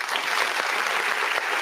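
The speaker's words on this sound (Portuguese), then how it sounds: "Os aplausos de todos os amigos da Web Rádio Grigo" Applause from the crowd at a Ponte Preta versus Portuguesa football match, a steady dense wash of clapping that stays loud and even throughout with no voices over it.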